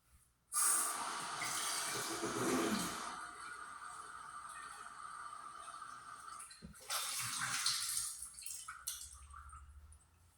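Drinking water runs and splashes steadily into a glass or container close by, a continuous gurgling pour that briefly pauses and resumes, with no talking.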